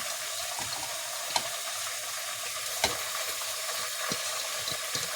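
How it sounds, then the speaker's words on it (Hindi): Chicken and onions fry for chicken korma in a low, steady sizzle, with occasional faint clinks and scrapes of stirring, and no voices. "देखिए चिकन अच्छा भून गया है इसमें प्याज में।"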